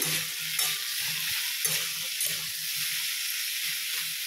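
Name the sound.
cauliflower frying in a pan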